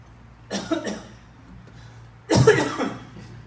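Two separate coughs close to the mic, a short one followed after a pause by a stronger, rougher cough, against quiet background.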